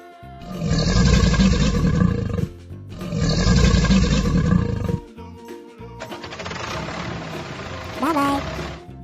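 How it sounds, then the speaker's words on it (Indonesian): Cartoon Komodo dragon sound from a children's animated animal show: two long, loud rumbling roars back to back over light background music. "Komodo."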